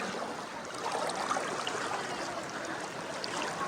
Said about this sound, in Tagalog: Grabe yung agos eh.